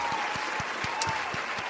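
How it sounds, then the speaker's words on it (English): Crowd applause in a standing ovation, dense clapping with distinct sharp claps at an uneven rhythm, moderately close, with voices mixed in. "Standing ovation. The crowd's going crazy, Ray."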